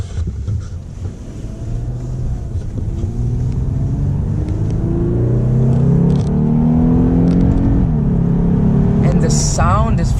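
A Lexus IS350 F-Sport in normal mode winds up through a rising engine drone that climbs steadily in pitch and grows louder over several seconds before easing off, heard from inside the cabin with a brief faint voice near the end.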